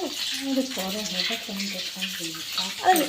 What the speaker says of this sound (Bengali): এই যে ডিমগুলোকে লাল করে ভাজছি আমরা।